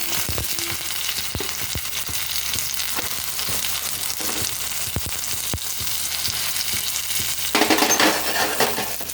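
Marinated eggs hit a hot pan and fry with a loud, steady sizzle that runs the whole time, a few faint utensil clicks on top and a brief burst of stronger crackling near the end.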